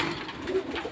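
Two young pet pigeons in a cage give soft, low cooing calls, close and fairly loud, a few brief coos across under a second.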